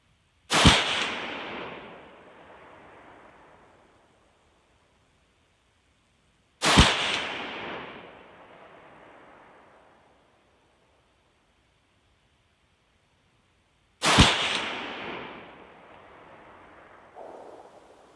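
Three sharp, loud Ruger Mini 30 rifle shots at a target, spaced about seven seconds apart, each with a rolling outdoor echo that fades over a few seconds before silence.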